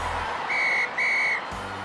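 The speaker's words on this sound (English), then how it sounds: "And that's the final whistle." A referee's final whistle in a cartoon football game: two long, shrill blasts, each close to half a second, with a short gap between them, loud and clear over a low background.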